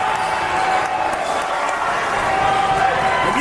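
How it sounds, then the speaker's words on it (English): A packed gym crowd roars steadily through a high school basketball game at the Snow Day Classic, Caruthersville playing, a dense continuous wash of cheering and shouting with no clear breaks. "And you can hear this crowd, folks"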